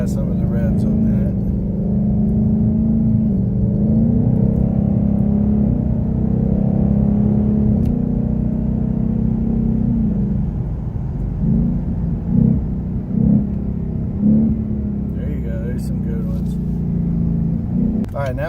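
A 2019 Ford Mustang GT PP1 V8 engine hums and rumbles steadily at close range, with a few brief throttle blips near the end.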